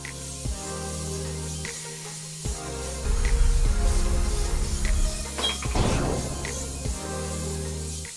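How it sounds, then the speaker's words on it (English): Orange spray paint hisses from an aerosol can onto artwork in two bursts, a longer steady spray followed by a shorter one, set against faint clinks and a low background hum. "I'll spray my orange on this section."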